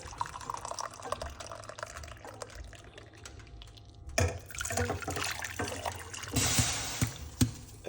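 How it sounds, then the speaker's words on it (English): Hot water is poured into a cup, starting with faint trickles and drips, then swelling into a louder, splashing fill with a few sharp knocks near the end. "1 cup of hot water."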